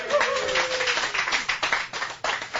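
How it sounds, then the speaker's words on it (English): A crowd gives a round of applause at a charity check presentation for the Boise Rescue Mission, with dense, steady clapping from many hands close by that carries through the whole stretch, with no talk over it. "Big round of applause, everybody."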